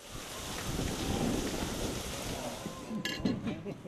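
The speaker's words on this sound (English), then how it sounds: "Today it's just been super hot and then all of a sudden it's raining." Steady rain hisses across the whole clip, with a few brighter spatters and bursts of drops near the end; no voices.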